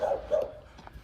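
A rescued dog, one of the Yulin survivors, gives two short, whiny whimpers close by, with faint yips at the end and no talk over it.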